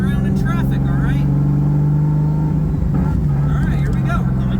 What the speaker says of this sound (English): Now we're gonna be just cruising around in traffic